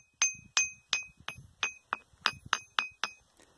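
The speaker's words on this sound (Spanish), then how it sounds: "Pero esta suena como una piedra campana." Ten quick, evenly paced strikes on a volcanic bell stone, each ringing out with a clear, bell-like clink, close and crisp against a quiet background.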